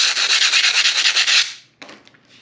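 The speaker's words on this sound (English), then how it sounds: "I just usually hit them with a bit of sandpaper just to take those lines off so they're less obvious" Sandpaper rubbed briskly over a sand core made for bronze casting, a quick rhythmic scratching that runs for about a second and a half, then stops, followed by a few faint light scrapes.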